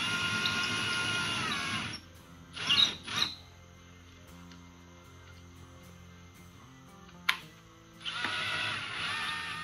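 A Ryobi ONE+ 18V brushless cordless hammer drill runs with a steady high whine for two seconds, then stops; a few short bursts follow, and after a quiet stretch it spins up again near the end.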